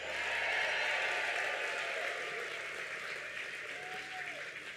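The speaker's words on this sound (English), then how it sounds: "this should be the biggest applause of the night, our bar and refreshment sponsor" A large crowd at an evening charity gala claps steadily for the bar and refreshment sponsor Moss Adams, a dense wash of applause that swells early and then slowly tapers.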